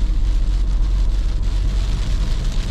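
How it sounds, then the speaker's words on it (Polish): Steady broadband wash of rain mixed with snow striking a moving car at about 5 degrees, with low road and engine rumble underneath, continuous and fairly loud throughout. "no to jest deszcz ze śniegiem"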